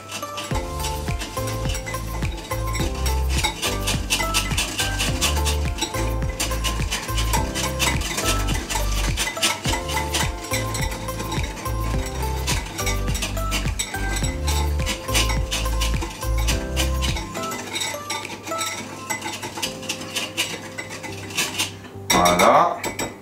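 Whisk or utensil stirring a mixture in a bowl for chocolate eclairs, fast rhythmic scraping and clinking against the sides for most of the stretch, then quieting before a final clatter, no talk.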